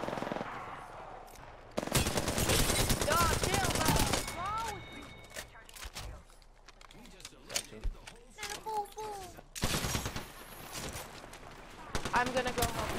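Bursts of automatic gunfire rattle through an Apex Legends match in several rapid volleys, loud and close, while players talk and shout between and over the shots.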